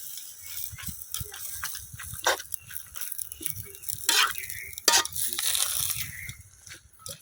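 Malabar spinach greens being sautéed in a pan for a puti fish curry, heard as irregular rattling and scraping strokes of a spatula with soft sizzling underneath, close by.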